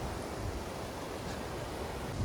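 Rushing mountain stream on a high trail near Muir Pass, a steady, dense broadband roar of water filling the whole moment without any pauses.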